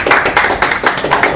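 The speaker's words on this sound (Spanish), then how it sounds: "un aplauso para Jorge" A small group at a football club event gives a brief round of clapping for Jorge, with distinct, rhythmic hand claps close by and no background chatter.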